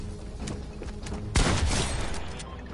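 Gunshots in a shooting video game: a loud, sharp blast at about the midpoint followed by a decaying rumble, with softer muffled game noise before it and no talk.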